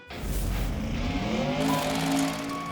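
A high-horsepower drag-racing door-slammer car with a big engine revving loudly, a sustained heavy roar whose droning tones climb steadily in pitch, alone and close.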